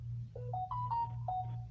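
A phone rings with a stepped electronic ringtone, a short rising series of clear beeping tones over a steady low hum, close and fairly loud with no talking.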